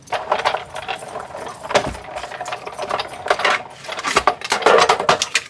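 Parts of a Big Shot die-cutting machine, its magnetic platform and cutting pad, are set out in a close, busy clatter of hard knocks and scrapes with no talking.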